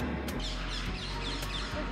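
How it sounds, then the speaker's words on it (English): Harsh bird calls in Amsterdam over a dense, noisy outdoor background, a few raspy cries rising above a constant rush. "the birds are insane"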